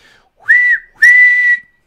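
A person whistling two sharp, shrill blasts that imitate a police whistle, the first short and the second longer and steady, close and loud with silence between.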